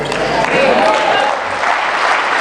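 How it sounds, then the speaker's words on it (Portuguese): Sustained audience applause fills a church or lecture hall, a dense steady wash of many hands clapping at full volume for the whole stretch with a faint murmur of crowd underneath. "Não aplauda ainda, vai vir a melhor parte."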